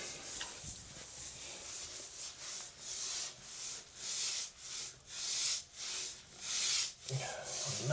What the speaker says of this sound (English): Try not to go with the grout joints as you're scrubbing.